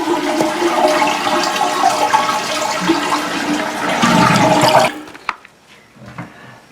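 A toilet flushes with a loud rushing, gurgling surge of water for nearly five seconds, then cuts off into faint trickles and drips as the tank empties, during a repair to replace rusted tank bolts.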